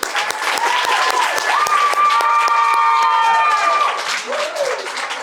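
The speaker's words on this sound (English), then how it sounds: "Another round of applause for them," Audience applause fills a summer camp debate showcase in Brooklyn, loud dense clapping with crowd noise and whistle-like tones rising over it, sustained throughout.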